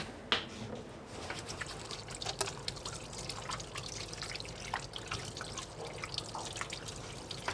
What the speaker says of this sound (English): Wash our hands, especially at a time like this.